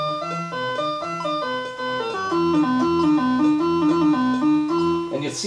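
An Arturia MicroBrute synthesizer routed into a Eurorack modular system plays a repeating MIDI loop, a bouncy sequence of buzzy synth notes over a low pulsing bass line, steady and moderately loud with no voice.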